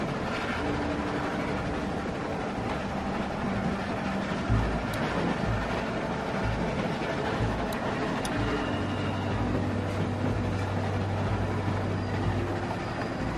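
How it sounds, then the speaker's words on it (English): Steady rumble of a moving train in The Walking Dead video game, a continuous low roar with rhythmic lower thumps from the wheels, holding at an even level throughout with no talk. "Stop the train."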